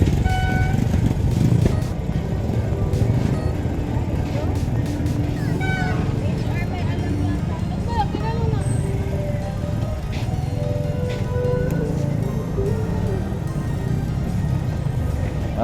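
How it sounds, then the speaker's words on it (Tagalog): Street traffic in Barangay Banlic, Cabuyao, passing by while biking: motorcycles and cars rumble steadily nearby, with a horn or two and crowd babble, under someone talking. "Barangay Banlik, bakit ka traffic?"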